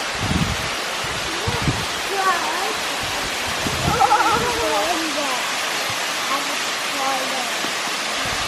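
A waterfall roars as a constant broadband rush, with people speaking over it at intervals.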